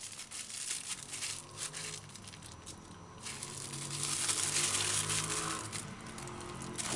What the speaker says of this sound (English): Put the tamarind ball in the plastic bag and then tie it tight.